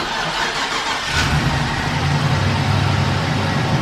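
An old engine rumbles close by, its low running note swelling after about a second into a steady, loud idle that continues to the end.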